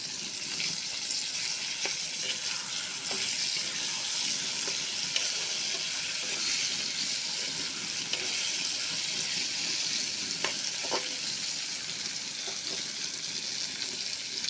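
Fried pangas fish with garlic paste sizzles in a pan, a constant hiss with scattered light pops and clicks, close and even throughout with no voices.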